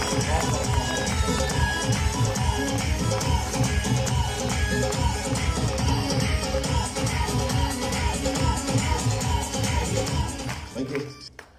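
Audience at a speech event giving guests a hearty welcome, dense sustained clapping from many hands, loud and continuous before tapering off at the end.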